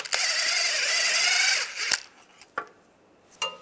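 A ratchet with a 13mm socket spins bolts out on a 2007-2013 Chevy Silverado, a close, steady whir for nearly two seconds that cuts off, followed by a couple of sharp metallic clicks.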